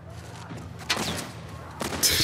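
Rifle fire in The Last of Us Part 1, two or three sharp close shots spaced about a second apart over low background noise.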